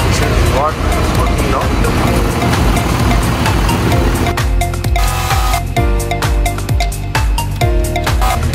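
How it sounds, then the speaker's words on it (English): A Cummins diesel engine on a vehicle at an airport service job running steadily at idle, a continuous low rumble with clattering ticks, while people talk over it. "now the engine is starting very smooth and fine"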